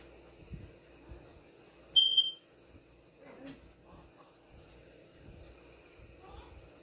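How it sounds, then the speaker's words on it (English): A house alarm gives a short, bright electronic beep burst partway through, set against quiet room noise and faint low rumbles. "Oh, that freaking alarm, gotta switch it out."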